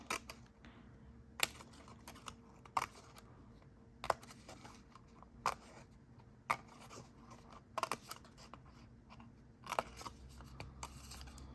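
Quiet, sharp snips of scissors cutting paper repeat at uneven intervals, close by, with soft rustling between cuts.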